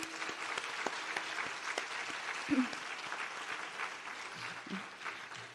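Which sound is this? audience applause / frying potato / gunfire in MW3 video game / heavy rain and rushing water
audience applause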